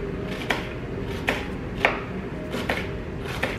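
A knife chops an onion on a cutting board in slow, separate strokes, five or six sharp knocks spaced about half a second to a second apart.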